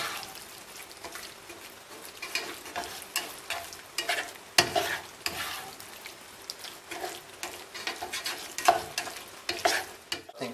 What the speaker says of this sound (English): We'll just stir that through so it's well combined.